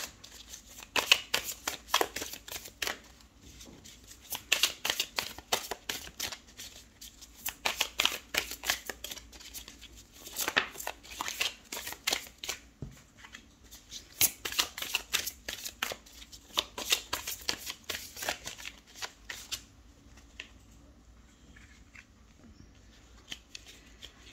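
Tarot cards being shuffled, a long run of rapid crisp riffling flicks in repeated bursts, close and fairly quiet, easing off toward the end.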